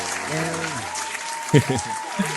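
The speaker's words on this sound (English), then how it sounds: "Audience applause." Audience applause on a podcast interview, a steady wash of clapping running under a person talking.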